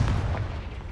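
A Confringo spell blast in the Hogwarts Legacy video game: one loud, low booming burst with a heavy rumble that fades gradually over about a second, with no voices.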